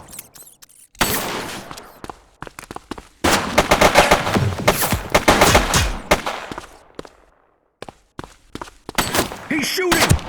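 Gunfire in the police game The Precinct comes as loud, close bursts of rapid shots and automatic volleys, split by short silent gaps, with thumps and clatter mixed among the shots.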